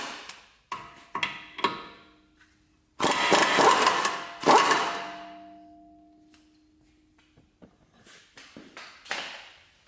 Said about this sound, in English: grab our impact gun or breaker bar and take off this axle nut socket